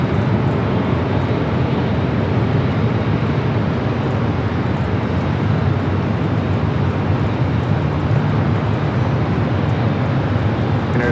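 A heavy ANA airliner rolls for takeoff on the north side at LAX, producing a dense, continuous jet roar that stays at an even loudness from start to finish, with no talk over it.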